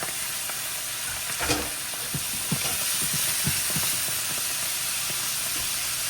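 Halved Brussels sprouts sizzle loudly in a hot pan over high heat, a constant frying hiss with scattered pops and crackles near the mic, no voices.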